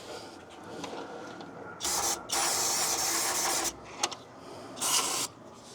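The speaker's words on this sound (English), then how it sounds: "I'm just gonna spray it and clean it off. Just use some carburetor cleaner." Several bursts of carburetor cleaner spraying close up on a Toyota/Lexus 2UZ-FE 4.7L V8 engine, one long hissing blast followed by a shorter one, with quieter handling noise between.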